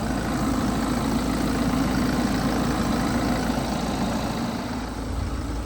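A BMW 116d diesel car engine idles steadily to warm up, a constant low rumbling drone heard close and alone for several seconds without change.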